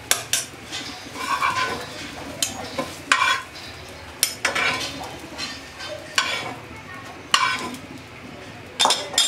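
A fried egg is scooped from a pan into a bowl, with a series of loud scrapes and clinks of utensil on metal between stretches of soft background sizzle.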